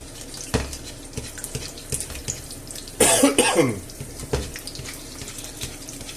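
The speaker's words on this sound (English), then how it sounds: "Let me clear my throat." In a kitchen where an egg is being fried for a breakfast sandwich, a person clears their throat in one close, rough burst. A faint running-water or sizzling hiss carries on in the background.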